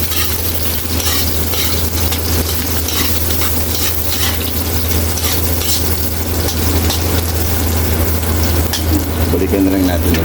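Onions frying in a pan for beef afritada are stirred steadily, a loud continuous sizzle with scraping strokes over a low hum throughout.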